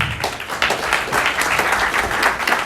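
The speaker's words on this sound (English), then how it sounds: "Guys, give Sharon a round of applause." An audience at a live comedy event in Boston claps for Sharon, giving a short, steady burst of full applause from the whole room.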